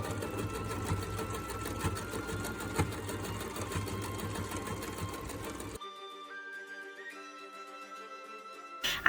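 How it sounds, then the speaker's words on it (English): A sewing machine stitching corset pieces, running a fast steady whirring stitch for several seconds, then stopping. After it stops, faint rising electronic tones are heard. "I sewed the side back to the side center pieces and finished it like I did the other pieces."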